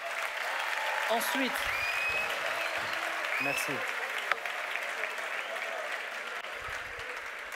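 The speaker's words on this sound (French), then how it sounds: "Est-ce qu'on peut applaudir l'équipe technique?" An audience applauds the technical team at a French-language show, a steady even wash of clapping throughout, with a few spoken words over it.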